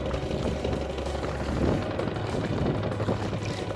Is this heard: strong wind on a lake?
yes